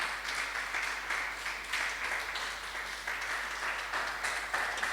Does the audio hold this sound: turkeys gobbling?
no